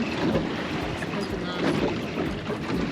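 A motorboat engine runs steadily on open water, a low rumbling drone mixed with wind buffeting and splashing, with voices speaking faintly underneath.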